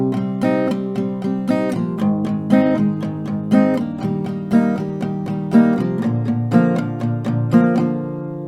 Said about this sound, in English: and the strumming will sound like this